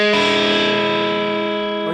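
Electric guitar with a distorted, effects-laden tone playing a blues shuffle in E, heard as a single full chord struck once and left ringing, loud and steady for about two seconds before it begins to fade.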